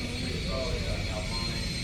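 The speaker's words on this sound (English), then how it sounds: "It's a private jet going out." A private jet taxis out at Clearwater with a steady, loud engine roar and whine that holds evenly throughout.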